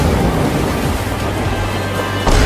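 A cartoon character plunges into water, heard as a loud, continuous rushing splash and churning wash that lasts about two seconds, ending in a brief surge with no speech over it.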